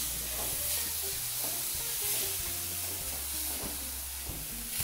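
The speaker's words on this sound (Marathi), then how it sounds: "परतून घेऊयात हे पनीर" Paneer sautés in a little ghee, a low, even sizzle with a gentle hiss over a faint background hum, quiet and continuous.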